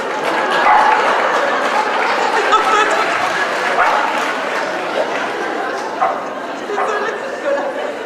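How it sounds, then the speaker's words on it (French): A dense chorus of dogs barking and yapping continues throughout, loud and constant, mixed with indistinct human chatter. "Voilà que les chiens m'empêchent de parler."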